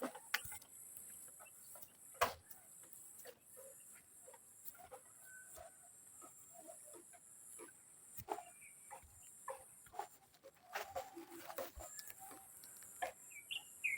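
Chickens cluck faintly in scattered, irregular bursts against a quiet outdoor background with a steady high insect buzz.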